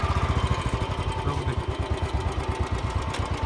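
A Royal Enfield Bullet 350 motorcycle engine chugs at low revs with a steady pulsing rhythm, close by, as the bike eases off in first gear while the clutch is released.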